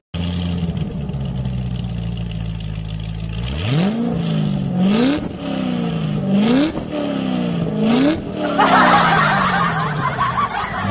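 Brand-new Lamborghini engine settles in a deep idle, then revs repeatedly in quick rising bursts that fall back between pulls. It sounds loud and close, with laughter and chuckling mixed in.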